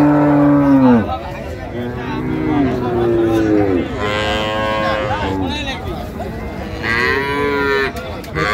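Dairy cows and calves low repeatedly at a busy rural cattle market in Dinajpur, Bangladesh, loud and close with overlapping long moos, over crowd chatter and a continuous background din.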